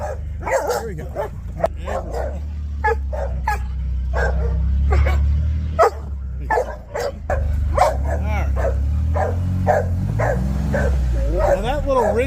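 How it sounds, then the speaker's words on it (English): Repeated dog barks and yips, fairly close, come through in a steady series over a constant low engine rumble, likely from a Honda trike, with some talk mixed in. "Just the barks."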